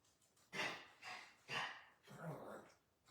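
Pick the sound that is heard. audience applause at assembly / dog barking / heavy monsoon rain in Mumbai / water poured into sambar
dog barking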